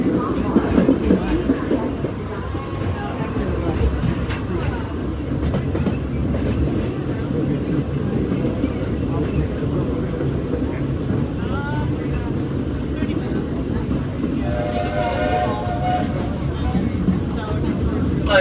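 The Magic Kingdom railroad train runs along its track, a steady rolling rumble and clatter of the cars that fills the whole stretch, with a recorded announcement spoken over it.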